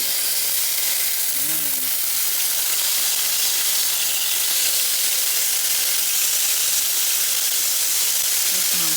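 Sizzling and frying in a pan as chicken and jalapeños cook for a cheesy jalapeño popper chicken pasta, a steady close hiss running throughout with faint voice murmurs underneath.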